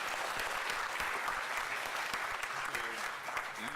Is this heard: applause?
yes